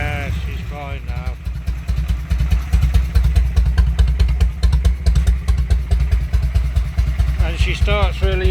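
Harley Shovelhead motorcycle engine running close by, a loud, lumpy, steady idle thump after a short start, with a few bleating-like sounds near the start and end.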